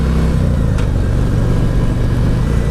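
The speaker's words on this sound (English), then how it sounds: "You got a little bit of decel action on the exhaust when you drop a gear." A motorcycle with a stage 2 kit revs on the road, its loud exhaust rumbling low and steady throughout, with faint wind noise.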